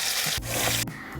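Meatballs frying on both sides in a little oil in a non-stick pan, a loud continuous crackling sizzle with a few abrupt shifts as they are moved, no talking.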